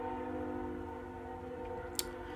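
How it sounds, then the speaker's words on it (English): A train passes outside, a steady low tonal rumble with a faint horn-like hum, distant and continuous, ending in a brief sharp click, no talk. "every time there's a friggin' train."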